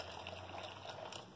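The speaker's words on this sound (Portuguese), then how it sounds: "Vou botar mais um pouquinho de água quente aqui" Hot water poured into a liquid detergent mixture for homemade laundry soap, a steady, faint watery gush and bubbling lasting the whole brief moment, with no talk over it.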